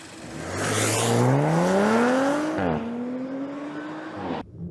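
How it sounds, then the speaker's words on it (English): A 2022 Audi RS5 Sportback engine revs up from a smooth hum into a rising wail, climbing in pitch, briefly dipping at a gear change, then pulling on before cutting off. "Opened up, the engine's smooth hum escalates into a wail"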